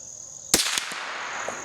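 A single sharp crack from a vintage .22 rifle firing a CCI Mini-Mag hollow point round outdoors, one loud report followed by a short echo over a steady high insect-like hiss.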